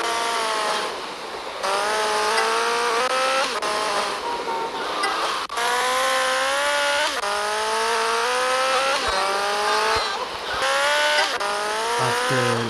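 Engines from a street race in GTA Vice City Stories rev loudly and continuously, with rising and falling pitch sweeps as gears change and cars jostle, and occasional brief tire squeals, close and steady throughout.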